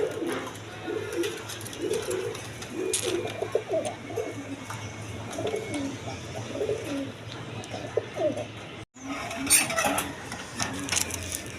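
Pigeons at a seller's stall give a long run of repeated, rolling coos at moderate distance. The calls come in a steady rhythm over a faint mechanical hum, broken once by a brief dropout near the end.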